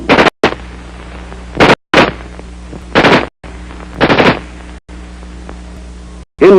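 An XM16E1 (M16) rifle firing, with five or six loud, sharp single shots spaced about a second apart, each followed by a brief echoing tail, and a further shot at the very end.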